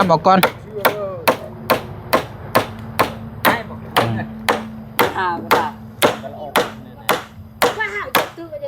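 Hammer strikes on nails while pulling them out, a steady series of sharp, loud, close blows about twice a second, with people talking in between.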